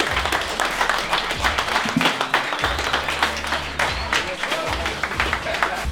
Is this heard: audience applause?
yes